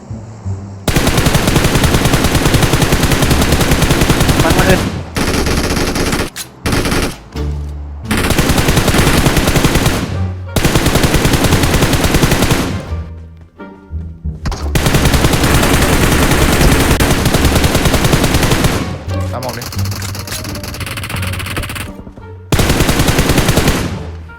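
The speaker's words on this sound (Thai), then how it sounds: "ยิงมา เออมันยิงกู มันยิงกู" Loud, sustained automatic gunfire in PUBG Mobile, long rapid bursts broken by short gaps, close and dominant with no talk over it.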